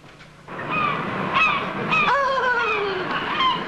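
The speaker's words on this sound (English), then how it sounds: "Fanshawe, you've forgotten to switch on the birds." Recorded geese switched on as background bird sound, honking loudly and close in a burst of overlapping calls that keeps going to the end.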